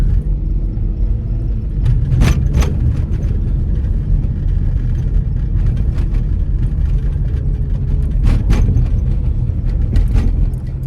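A truck passes on the road with a loud, steady engine rumble and road noise, heavy and close for the whole stretch, with no talking.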